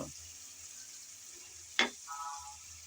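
Spice paste sautéing in oil for a potato and pea curry gives a soft, steady frying sizzle in a quiet kitchen, broken by one sharp clink of a utensil against the pan and a brief faint tonal sound afterward.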